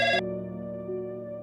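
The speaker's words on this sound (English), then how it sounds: "my uncle's phone rang" A phone rings in a tense horror-story scene with a short bright ringtone burst, followed by a sustained electronic tone that holds steadily, loud and close with no talking.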